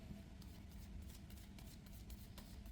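Soft, continuous riffling and shuffling of tarot cards, quiet and close, with faint rustling texture throughout.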